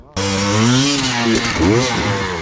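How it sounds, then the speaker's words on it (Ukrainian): A 2020 Husqvarna TE 300i enduro motorcycle engine revs loud and close, starting abruptly into a steady buzzing drone that swells, dips briefly, then rises again. "Да, моторка, чувак."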